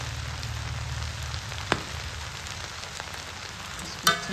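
Spiced stuffing with turmeric frying in a pan for a stuffed bagiya dish gives off a soft, steady sizzle, with a couple of faint clicks of a utensil against the pan.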